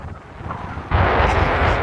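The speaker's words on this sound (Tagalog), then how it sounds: "masyadong malakas ang hangin" Strong coastal wind at Bued Mangrove Park in Alaminos City, Pangasinan, roars and buffets the microphone, growing suddenly louder and rougher about halfway through, with no voices heard.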